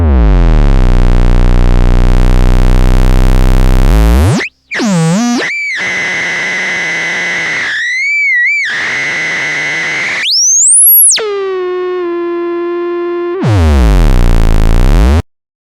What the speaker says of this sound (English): So you can get these really thick sub bass tones